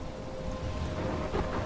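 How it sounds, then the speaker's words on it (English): Steady rain and a low storm rumble in the video game Life is Strange, a brief, even wash of downpour with no talk. "I'm trapped in a storm?"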